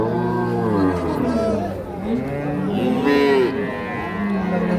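A cow at a cattle market where dairy cows and calves are sold, giving long, loud, drawn-out moos close by, with crowd chatter in the background.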